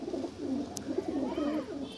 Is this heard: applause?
no